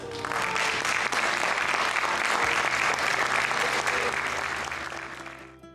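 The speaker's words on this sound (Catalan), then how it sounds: "si el acto les agrada, seguro que aplaudirán" Sustained audience applause fills a poetry recital, loud and steady for about five seconds before tapering off near the end.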